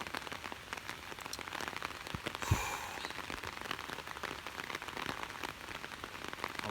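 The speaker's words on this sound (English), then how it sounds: "All that rain." Heavy rain pouring outdoors, a continuous close hiss of drops spattering on surfaces, with a single sharp knock partway through and no talking.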